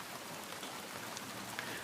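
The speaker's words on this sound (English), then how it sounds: "Okay, the rain's coming." Steady rain falls outdoors, a dense, even hiss of drops pattering on surfaces with no pauses, moderately loud and close, heard alone without any talking.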